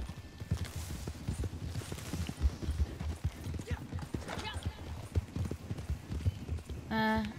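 Steady clip-clop of horse hooves trotting in the video game Red Dead Redemption 2, close and rhythmic, with faint voices in the background and a brief tonal chime at the end.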